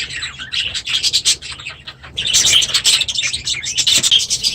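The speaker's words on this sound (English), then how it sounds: "I'll leave you with some clips from today of my budgies and my other birds" Budgies and other birds in an aviary chirp and chatter continuously, a dense layer of bright overlapping tweets and squawks, close and lively with brief lulls.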